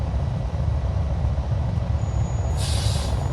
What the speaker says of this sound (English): air brake.